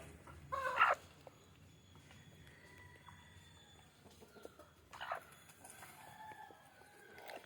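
Country chickens eating bran, with scattered soft clucks and a louder burst near the start, over a quiet farmyard background.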